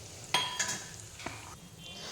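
Whole spices, dried red chili and bay leaf drop into hot oil for a vegetable dalia khichdi tempering, giving a short crackling sizzle with a few sharp pops, close and fairly quiet.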